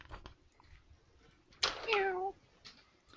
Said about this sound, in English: So there's a cat nearby?